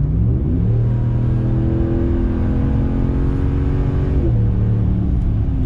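A Ram Rebel pickup truck engine revs hard and close, its tone climbing in sustained sweeps, dropping, then rising again in a loud, throaty roar.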